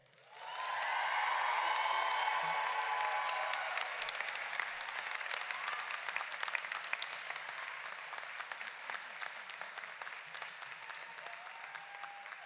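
Loud, sustained applause fills a university commencement ceremony for the class of 2023, a dense wash of many hands clapping that swells in quickly and holds steady before easing slightly, with no talk over it.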